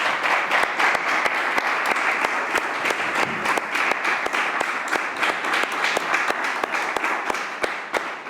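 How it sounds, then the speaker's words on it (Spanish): An audience at a history lecture welcomes a speaker with an even, continuous round of clapping that holds at a moderate level from start to finish, with no talk over it. "Yo lo que os invito es a que lo recibamos con un aplauso a Alberto Gil Ibáñez."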